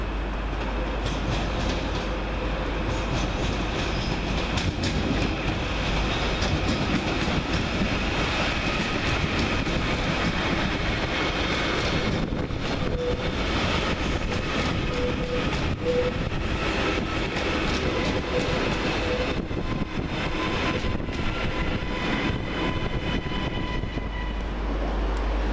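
A TransPennine Express class 397 electric train, unit 397012, runs through Manchester Oxford Road station with a steady rumbling roar and rail clatter that stays loud and close throughout, with no talk.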